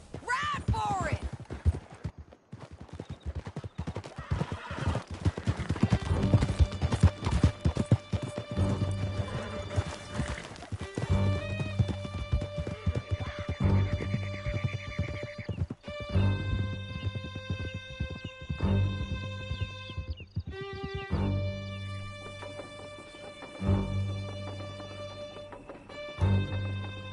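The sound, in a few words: horses galloping in a video game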